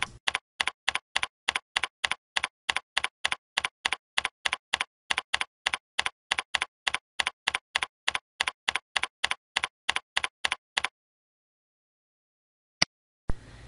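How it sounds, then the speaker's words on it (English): Commands are typed on a computer keyboard in steady, evenly spaced clicks, about three per second for roughly eleven seconds, then stop, with one or two isolated key presses after a pause. "In the Visual Basic Editor, we'll type in the commands to refresh the three files."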